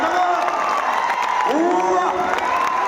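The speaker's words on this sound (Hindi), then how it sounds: "तो एक बार जोरदार तालियां आप सब लोग के लिए" A crowd at a DXN business meeting in Patna applauds and cheers loudly, sustained clapping under rising shouted whoops and voices, full and continuous throughout.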